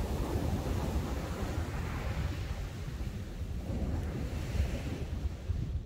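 Ocean surf rolling onto a beach in Durban, KwaZulu-Natal, early morning, a constant broad wash of waves mixed with wind buffeting the microphone.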